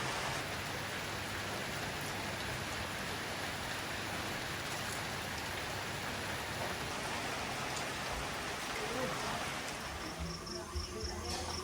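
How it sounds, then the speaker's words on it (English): Rain falls steadily in Khao Sok National Park, Thailand, a dense unbroken hiss of drops on surfaces with faint insect or cricket tones in the background, and some louder splashing near the end. "And we're getting some rain right at the moment."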